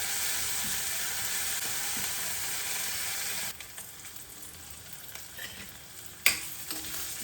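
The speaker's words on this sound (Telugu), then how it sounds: "సిమ్మ మీద పెట్టి మంచిగా వేగిద్దామండి." Fenugreek paratha mixture frying in oil over a low flame gives a steady broadband sizzle that drops quieter midway, with a sharp clink or scrape near the end and no voices.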